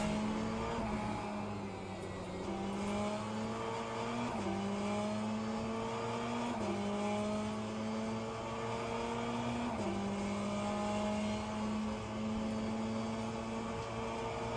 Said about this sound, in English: I just heard an engine revving.